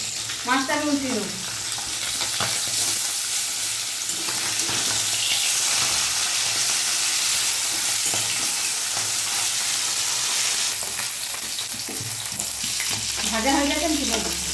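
Flipped bhola fish frying in mustard oil in a wok sizzles loudly and continuously, with spatula scrapes and brief voices at the start and end.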